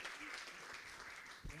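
Audience applause at a game design conference session, steady dense clapping filling the room, with speech over it toward the end.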